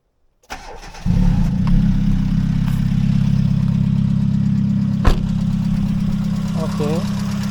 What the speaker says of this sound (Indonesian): Kita nyalain dulu ya mesin.